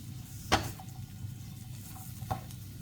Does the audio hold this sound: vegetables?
yes